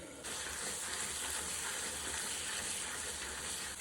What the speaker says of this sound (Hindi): तो लगातार चलाते हुए खोए को भी गाजर के साथ भून लेंगे।